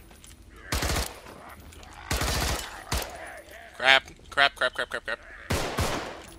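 Gunfire from the zombie video game Contagion comes as rapid bursts of shots, several volleys and a stuttering string of single rounds, with a player's voice talking briefly between them.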